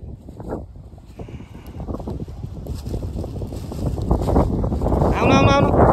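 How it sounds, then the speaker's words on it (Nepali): Strong wind on a mountain trail in Nepal buffets the microphone with a continuous low roar that swells louder toward the end, and voices talk over it. "कत्रो हावा चलो"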